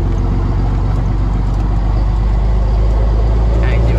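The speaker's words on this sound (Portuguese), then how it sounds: "E vamos que vamos, acelerando aqui." A car accelerating on a road while a Volvo project is sought, with a loud, steady engine drone and heavy road rumble filling the cabin from start to finish.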